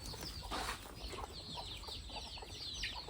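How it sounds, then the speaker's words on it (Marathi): Free-range village hens cluck and chirp faintly in the distance, a scattered, continuous chatter over low background noise. "हे आहे आमचं कोंबडी पालन कोंबड्या तर ह्या एकदम प्युअर गावटी गावरण कोंबड्या आहेत"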